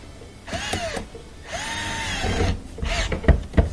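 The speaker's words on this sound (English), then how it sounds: "Tighten up that screw." A power drill drives a screw beneath a dishwasher in short bursts, each whine rising and settling, with pauses between and some clicking and handling noises close by.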